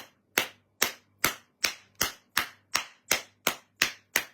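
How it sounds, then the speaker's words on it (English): One person clapping hands slowly and steadily, ten sharp, close claps spaced evenly about half a second apart, each ringing briefly before the next, in an otherwise quiet room. "Yes, I will clap for him."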